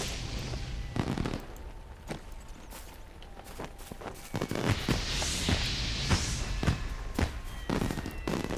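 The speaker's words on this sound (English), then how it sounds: "This is a good venue for the fireworks." Fireworks at a festival in the game Lord of the Rings Online: a string of sharp cracks and pops at irregular intervals, with a fizzing whoosh midway, fairly close and distinct.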